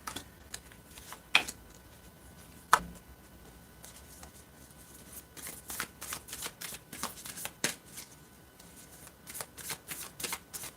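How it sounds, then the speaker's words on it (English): Tarot cards are shuffled by hand in soft, rapid riffles and taps close to the listener. Light patter keeps going in the background. "I'm going to pull some cards for Suho."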